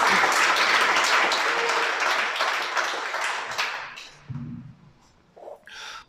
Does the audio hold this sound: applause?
yes